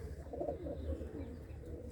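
Pigeons in a loft give soft, low cooing calls, faint and muffled, a few murmuring coos over quiet background.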